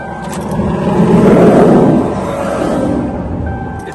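A 2003 Lincoln Town Car with an intermittent no-start fault cranks over close by, a loud, rough, sustained churning that swells and then fades slightly without catching.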